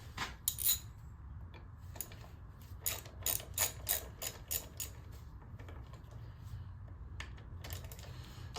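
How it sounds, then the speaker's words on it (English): A ratchet backs out Torx screws on the carburetor of a 1993 Harley-Davidson Softail, giving rapid clicking bursts in short runs over a low steady hum, close up and with no talking. "So we're just undoing the 3 torques here."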